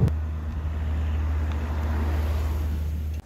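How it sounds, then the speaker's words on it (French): A steady diesel engine drone fills the cabin of a Volkswagen T-Roc at over 3000 rpm, a constant low hum with faint road and wind noise, close and unbroken, with no talking. "dès qu'on dépasse les 3000 tours minute, on a vraiment le bruit du moteur diesel présent dans l'habitacle"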